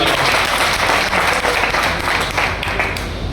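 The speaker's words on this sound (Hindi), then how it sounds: "सुरेश जी के लिए एक बार जोरदार ताली बजाएं" A political gathering's audience gives loud, sustained applause for Suresh ji, a dense wash of many hands clapping steadily throughout.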